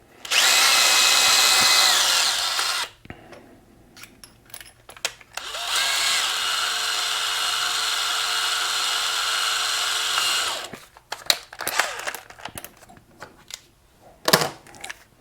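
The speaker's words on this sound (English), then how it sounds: "I'm going to take my drill." Power drill boring a hole in metal for a pop rivet, two long loud whirring runs near the mic, the first about three seconds, the second about five, followed by scattered clicks and handling knocks.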